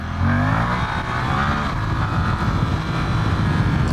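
A 2023 Suzuki GSX-8S accelerates hard in first gear into a power wheelie, its engine note rising in a close, loud, continuous roar with no voices.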